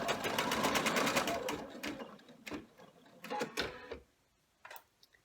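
An embroidery sewing machine stitches a short tack-down line on an in-the-hoop bag, a loud steady rapid needle clatter for about four seconds, then a few brief mechanical clicks and taps as it stops.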